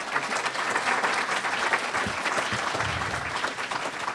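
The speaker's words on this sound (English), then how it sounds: "we'll give this gentleman a round of applause" Conference audience at a Wikimania 2012 session applauds a speaker after questions end, a steady, dense wash of hand claps from a sizable crowd, moderately loud and sustained throughout without talk.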